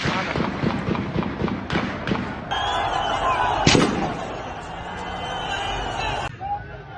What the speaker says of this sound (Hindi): ये तो फायर कर रहे हैं यार।